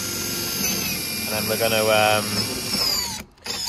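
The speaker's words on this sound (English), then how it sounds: "we're just drilling all the holes" A power drill bores holes through the roof of a VW T4 camper van during a solar panel fit, whining loud and close with rising pitch, while someone talks over it.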